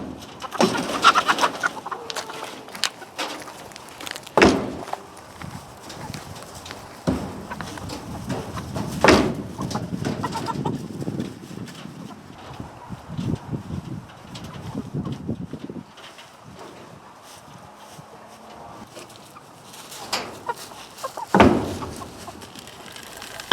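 Backyard chickens move about a chicken run, giving soft scattered clucks and low murmuring calls, with occasional scratching and knocking sounds nearby and quiet gaps between.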